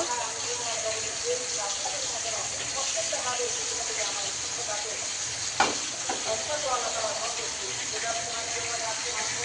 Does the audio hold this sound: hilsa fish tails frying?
yes